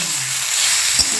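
Turmeric and chilli powder sizzling in hot oil in a pan, a steady close frying hiss with a faint stirring scrape near the end.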